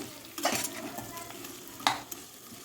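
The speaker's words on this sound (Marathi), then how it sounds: "बटाटा आपण मीडियमपेक्षा कमी गॅसवरच फ्राय करून घ्यायचा" Cubed potatoes frying in a pan over low heat for aloo pulao, a quiet, close sizzle broken by two sharp scrapes of a spoon stirring them.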